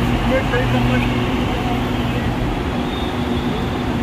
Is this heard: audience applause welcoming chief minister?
no